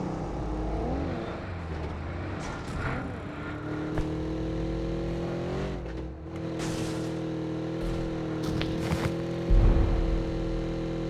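Engine of a car in a match-based video game, steadily droning and revving with shifting pitch through most of the stretch, loud and continuous with a few brief bumps.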